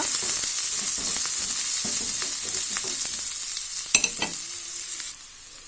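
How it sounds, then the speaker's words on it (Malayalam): Garlic and a green chili fry in oil in a pan with a bright, steady sizzle and some stirring. The frying settles to a quieter hiss near the end. "ഒരു ചെറിയ കഷ്ണം വെളുത്തുള്ളി, ഒരു പച്ചമുളക് എന്നിവ ചേർത്ത് കൊടുത്തിട്ടുണ്ട്. ഇതൊന്ന് ഫ്രൈ ചെയ്യുക"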